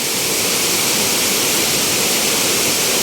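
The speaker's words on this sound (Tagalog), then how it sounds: "Liliw Falls, Laguna oh." Liliw Falls in Laguna roars as a loud, steady wash of falling water, dense and unbroken throughout with no voices.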